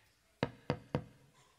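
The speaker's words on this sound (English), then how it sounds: "Does anybody hear knocking?" Three firm knocks land on a door in a quick, even sequence, close and distinct, each with a short thud that fades in a quiet room.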